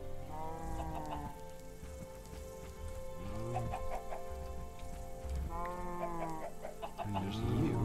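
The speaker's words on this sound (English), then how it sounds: "Chickens, would you like to have something to eat?" Chickens clucking in the video game Minecraft, repeated short calls over a steady ambient game soundtrack, fairly loud and continuous throughout.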